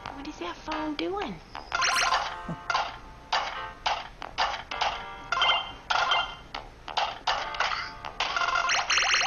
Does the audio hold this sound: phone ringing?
yes